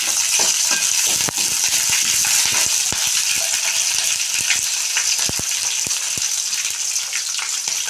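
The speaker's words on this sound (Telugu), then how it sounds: "కరివేపాకు, పచ్చిమిరపకాయలు వేసుకొని ఒకసారి వేసుకోవాలి." Curry leaves and green chillies sizzling steadily in hot oil with onions, a bright continuous crackle at close range punctuated by sharp pops and spits.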